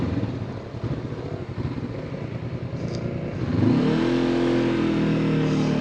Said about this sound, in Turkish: Öncelikle motor sesinin çok güzel olduğunu söyleyebilirim.